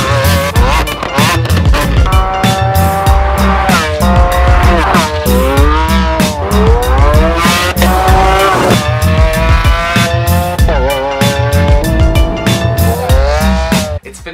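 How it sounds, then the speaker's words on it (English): A Lamborghini Aventador LP700-4 V12 roars loudly and continuously, its revs climbing and falling in repeated sweeps through gear changes, with tires squealing along the way. "It could only be the Lamborghini Aventador"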